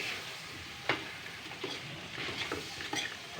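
Pork steaks fry in a pan with sliced red onion, a steady soft sizzle broken by several scraping stirs of a utensil against the pan, heard close and alone without talk.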